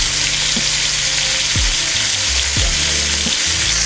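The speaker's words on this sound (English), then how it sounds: "Once your pot is very hot, add in your steak." Steak sears in a very hot pot for an Italian-style pot roast, giving off a loud, steady, hissing sizzle throughout with a few low scraping shifts.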